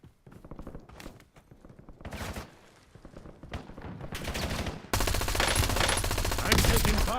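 Gunfire in a battle-royale style shooter game, scattered shots building into dense, continuous automatic fire that grows louder and ends in a sustained close barrage.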